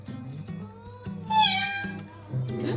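A cat meows once, a clear rising-and-falling cry standing out over a steady musical backing, with a couple of shorter sounds at the edges.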